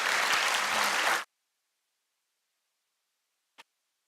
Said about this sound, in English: She should get a big round of applause for that